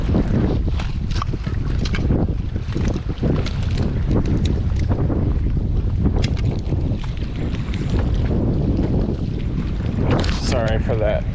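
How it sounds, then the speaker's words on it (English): Strong wind buffets and roars across the microphone while fishing at Lake Gregory in California, a constant loud rumble with gusts, and voices talk faintly underneath. "we're dealing with a lot of wind"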